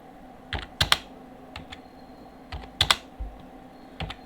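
Computer keyboard typing while entering data into an Excel spreadsheet, with short clustered bursts of crisp key clicks separated by pauses, close up and clear, and no one speaking.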